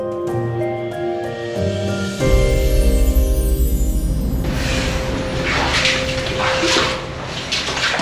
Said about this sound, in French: Goutte à goutte.